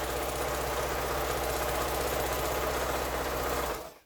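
A sewing machine stitches quilt seams in a steady, fast mechanical whir with a rapid regular needle rhythm, running loud and close before stopping abruptly near the end, with no talking.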